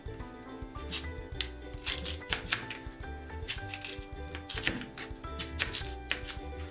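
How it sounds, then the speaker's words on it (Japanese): Quick rhythmic knife strokes chop through peeled daikon radish on a board, close and crisp, with soft background music and no talking. "まずは大根は皮を剥いて3センチ幅ぐらいに切っていきます。"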